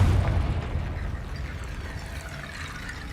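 A Confringo fire spell blasts in Hogwarts Legacy, a deep booming burst that rumbles loudest at the start and trails off into a steady low roar.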